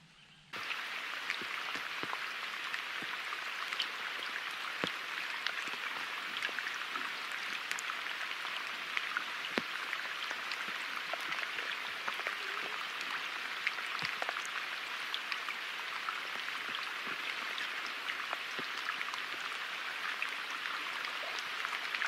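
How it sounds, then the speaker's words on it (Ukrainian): Steady, dense rain hisses throughout at an outdoor fishing spot, broad and continuous like a heavy downpour, with occasional sharper drops or taps standing out. "дощ іде, як з вітра. Оце поливає, друзі."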